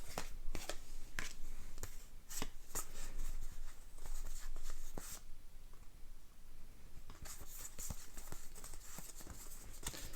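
Cards from the Space Marine Adventures board game being flipped over on a table, a faint series of quick light taps and soft slaps, close but quiet, in irregular bursts with a short pause midway.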